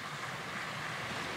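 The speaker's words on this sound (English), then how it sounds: "these are the only ripples and waves that we have today" Atlantic Ocean waves and small ripples wash steadily in a continuous broadband rush, with wind buffeting the microphone throughout and no voices.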